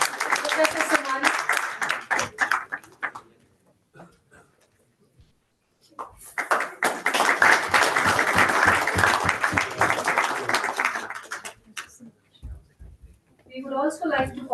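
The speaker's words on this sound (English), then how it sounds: "Please round of applause for Professor Somani." Sustained clapping from a crowd fills most of the stretch, pausing briefly in the middle before a second long burst of applause, with a voice near the end.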